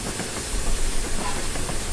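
Flying Scotsman steam locomotive running on the flat along a main line at speed, a steady loud hissing, rushing roar with a low rumble and no distinct beats.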